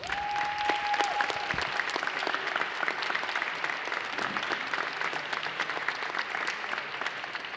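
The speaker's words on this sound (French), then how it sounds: "on peut vraiment, vraiment, vraiment les applaudir" Audience at a science festival prize-giving ceremony applauding: sustained, steady clapping from a moderately sized crowd throughout, with a brief tone at the start and no talk.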